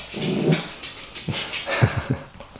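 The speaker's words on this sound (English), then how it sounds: "fucking dog" A dog gives a few short, close barks and whimpering yelps in quick, uneven bursts, loud and mostly alone without talk.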